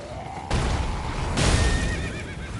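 A horse in the Elden Ring video game whinnies loudly and close, a drawn-out neigh over broadband game noise with a second swell of sound partway through.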